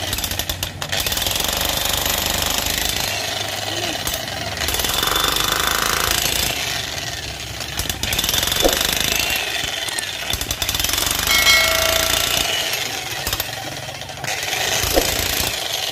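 Classic CLA-077 30 mm electric chisel hammer running, a loud continuous rapid hammering rattle with shifting intensity and brief pauses, recorded close with no talking.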